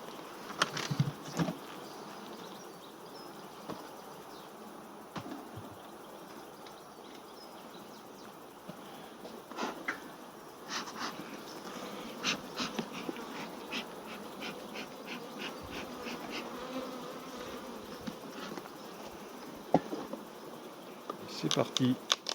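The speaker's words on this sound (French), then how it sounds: "je vais contrôler la hausse pour savoir où en est cette ruche." Honeybees buzzing around an opened beehive as the honey super is inspected during a summer harvest check, a steady close hum with scattered clicks and handling noises, and faint speech in places.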